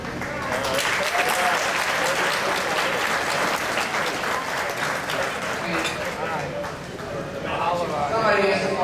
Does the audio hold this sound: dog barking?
no